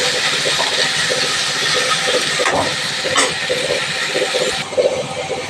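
Chopped tomatoes fry in oil in a pan for pepper chicken, a loud, dense, continuous sizzle and crackle that stays close and steady throughout.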